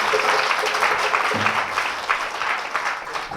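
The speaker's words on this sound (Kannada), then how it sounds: "ಅವನಿಗೆ ಜೋರಾಗಿ ಚಪ್ಪಾಳೆ ಹೊಡೆದು ನಾವು ಘನಪಡಿಸೋಣ" A church congregation at a night prayer and worship service claps loudly, a dense sustained round of applause with scattered voices in the crowd.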